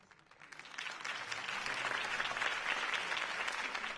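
Applause rises quickly from a few claps into a full crowd clapping steadily and fairly far off, holding at a moderate level, in the video game Batman: The Telltale Series.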